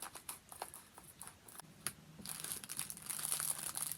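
Crinkly plastic packages of sequins being opened, quiet close crackling and rustling in quick bursts that grow busier toward the end.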